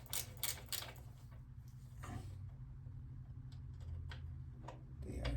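A ratcheting speed wrench turning during a motorcycle rear brake line installation, with quiet rapid ticking clicks in short bursts over a low background hum.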